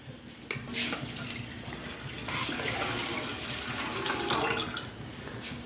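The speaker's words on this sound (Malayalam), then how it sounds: "എന്നിട്ട് നമുക്ക് നമ്മുടെ പാല് ഒഴിച്ചു" Milk poured into a pan on the stove for custard pudding, a continuous close splashing, gurgling liquid stream that builds gently and runs throughout, with no talking.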